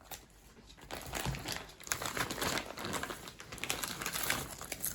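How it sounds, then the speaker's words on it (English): Plastic food bag being cut open in a kitchen before sous vide cooking, a close, steady crinkling and rustling of plastic with small snipping sounds lasting several seconds, no voices. "excuse me while I cut the bag open."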